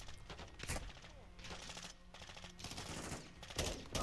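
Bursts of automatic gunfire ring out in a Call of Duty Modern Warfare II match, several rapid volleys spread across the moment with a dense, loud crackle.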